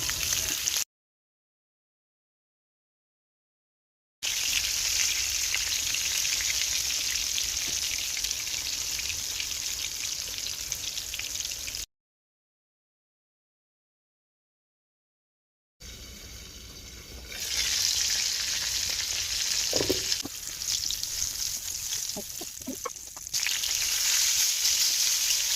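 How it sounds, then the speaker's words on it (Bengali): Eggplant pieces seasoned with salt, chili powder and turmeric fry in oil in a frying pan, giving a steady, close hiss and sizzle in two long stretches separated by silent gaps, with scattered crackles and spatters. "এরপর ফ্রাই প্যানে তেল দিয়ে বেগুনগুলো ভেজে নেব।"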